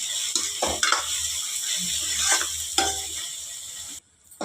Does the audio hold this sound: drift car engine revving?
no